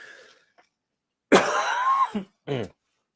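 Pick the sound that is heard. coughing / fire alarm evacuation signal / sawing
coughing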